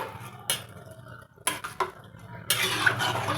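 A spoon clatters and scrapes in a pot while garam masala is mixed into cabbage pulao, with several sharp metallic knocks followed by a rougher stirring scrape near the end.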